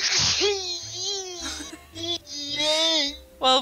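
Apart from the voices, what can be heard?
sneeze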